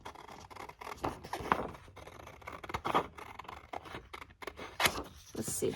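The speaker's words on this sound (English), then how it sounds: "Let's see if I can carefully cut along here" Scissors carefully cut a picture out of a thrifted book page, giving soft, close, intermittent snips and papery scratches at a quiet level.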